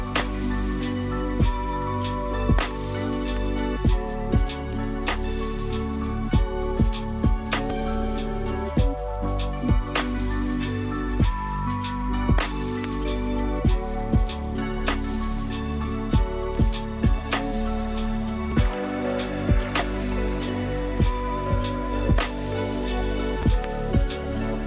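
Lo-fi remix playing steadily, with a warm bass-heavy bed, soft chords and a regular punchy drum beat throughout, fairly loud and free of talking.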